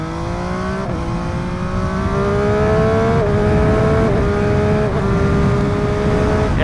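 A 2024 MV Agusta F3 motorcycle engine pulls hard at high revs, a loud, steady rising whine with brief dips at each gear change, heard close from the rider's position with wind roar underneath.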